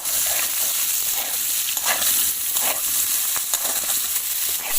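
Jackfruit fries in hot oil in a pan while being stirred, giving a steady bright sizzle with periodic scraping strokes, close and continuous.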